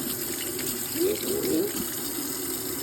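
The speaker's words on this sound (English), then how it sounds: "Now you're going to take your water and turn it hot, and you're going to let it run." Hot water runs steadily from a tap, a constant rushing hiss with a slight swell around the middle, close by and with no talk.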